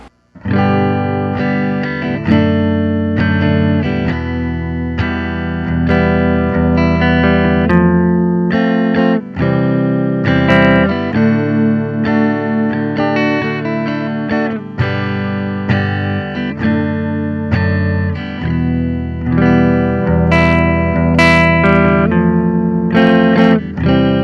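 Electric guitar played through an amplifier on its clean channel, a steady run of plucked notes and chords with sustained harmonics, loud and close, played alone without talk.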